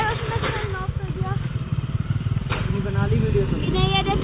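A motorcycle engine runs at close range with a rapid, steady low chug that thickens toward the end, while voices talk over it.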